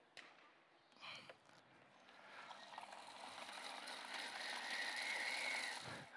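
A manual food chopper grinds food in a home kitchen with a rising, steady mechanical whirr and ratcheting clicks, close and fairly quiet, with no talking.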